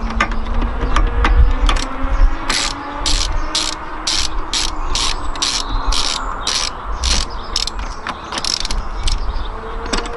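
A 10mm ratchet loosens the negative terminal nut on a Honda S2000 battery, clicking in a fast, regular series of sharp pawl ticks up close over low background hum.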